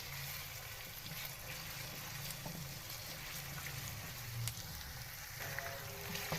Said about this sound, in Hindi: चिकन का कलर चेंज होने लग गया है। अभी हम अच्छे से फ्राई करते हैं